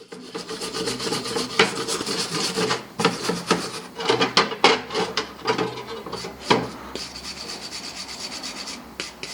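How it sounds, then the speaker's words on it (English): A metal wire brush scrubs scale off a forged hatchet blade after a vinegar soak, giving dense, rough rasping strokes in uneven bursts, close and fairly loud, with no voices. "scrub it with a metal brush to remove any excess forged scale"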